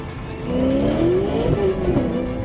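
A car accelerates hard with the engine note climbing steadily as it revs up, loud and close, sustained for a couple of seconds with no talk.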